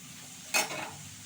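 Green jackfruit pieces are stirred in a pan with a single short scrape and brief sizzle, faint and close, over quiet background.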